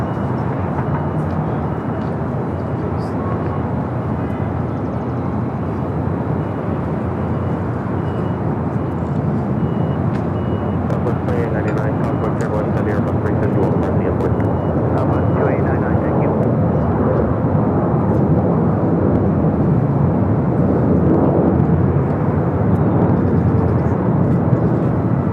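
A JetBlue airliner at Los Angeles LAX airport gives off a broad, steady engine rumble at moderate distance, fairly loud and sustained, with a voice talking over it.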